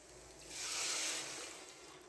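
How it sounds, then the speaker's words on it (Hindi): Water is poured into a pot for ginger garlic soup, a faint hissing splash that swells for about a second and then tapers off under a quiet background. "अब हम यहाँ पर पानी ऐड कर देंगे।"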